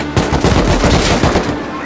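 Rapid automatic gunfire in the survival video game Rust, a loud, close burst of overlapping shots firing continuously.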